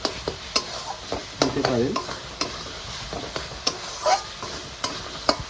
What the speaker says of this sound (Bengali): মশলা থেকে আমার তেল ছাড়া শুরু করে দিয়েছে, এর মানে মশলাটা আমার কষে গেছে